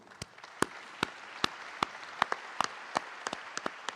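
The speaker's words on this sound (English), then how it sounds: "please give us the most, the strongest round of applause" An audience at a tech summit claps in scattered sharp bursts, a loose handful of hands popping unevenly rather than a full ovation, moderately quiet in a large room.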